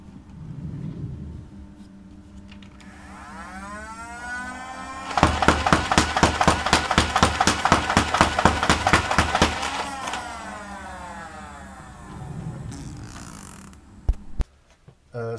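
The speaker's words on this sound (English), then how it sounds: "Rate of fire test with 18 darts in a clip" A Nerf Rapidstrike dart blaster on stock 6-volt batteries: flywheel motors whine as they spin up, then about five seconds of rapid, evenly spaced dart shots, followed by the motors winding down.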